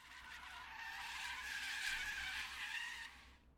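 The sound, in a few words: truck brakes screeching loudly, from a visual novel video game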